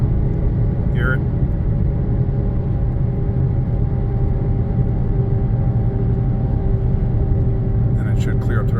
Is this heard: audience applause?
no